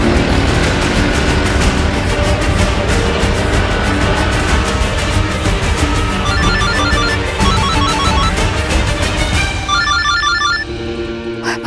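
A telephone rings loudly and repeatedly in a bright electronic pattern, filling the clip before cutting off near the end.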